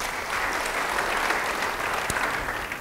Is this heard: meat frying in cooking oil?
no